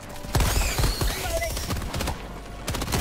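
An MG42 machine gun in the Helldivers 2 video game fires in rapid, loud bursts with sharp repeated cracks, while players talk over the shooting.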